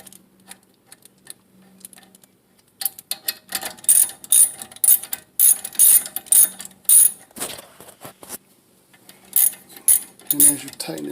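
Ratchet wrench clicking in fast bursts while tightening brake bolts on a car during a brake change, loud and close, with quiet pauses between runs of clicks and no talk.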